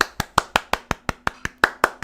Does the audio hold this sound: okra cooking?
no